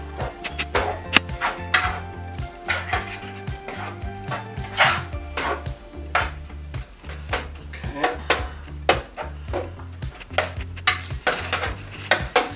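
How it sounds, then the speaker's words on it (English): A spoon or spatula scrapes and clinks in a cooking pan as food is turned, a steady run of close metallic taps and scrapes heard alone. "we're gonna give our food a turn here"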